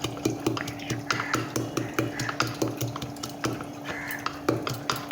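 Garlic cloves, ginger pieces and green chillies pounded and mashed together, a steady series of close, rhythmic thuds and grinding scrapes repeating about every half second without any talk.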